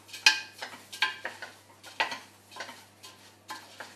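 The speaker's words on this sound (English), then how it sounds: "give them a good stir." A spoon stirs lentils in a pot for Puglian lentil soup, making repeated scraping knocks against the pot in an irregular rhythm, close and fairly faint with a light sizzle.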